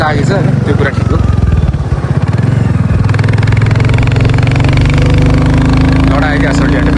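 A Royal Enfield Bullet Reborn 350 motorcycle runs on a test ride, its single-cylinder engine a steady low thumping drone throughout, with a voice speaking over it early on.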